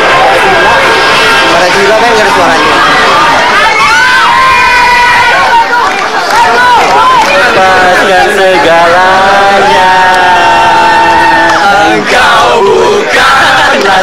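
Large concert crowd shouting and singing a song together with no music playing, a loud, dense mass of voices rising and falling in ragged chant-like melody throughout.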